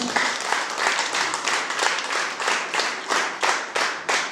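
Audience applause at a gathering, with many hands clapping in a steady, pulsing rhythm throughout, loud and fairly close, with no talk over it.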